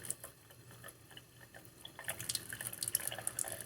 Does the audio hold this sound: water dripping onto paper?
yes